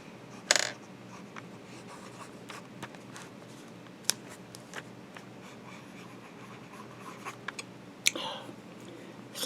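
A fountain pen writes with Montblanc Olympic Heritage Red ink, giving faint, soft scratching strokes on paper against a quiet room, with a few small knocks and taps scattered through.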